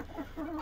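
A rooster clucks in a backyard flock, giving a short, close pair of wavering calls.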